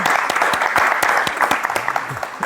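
A studio audience claps for a guest, dense close applause of many hands with sharp individual claps standing out, fading slightly toward the end.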